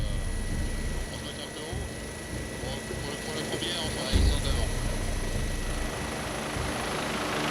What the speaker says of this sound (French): l'hélicoptère revient de son camp de base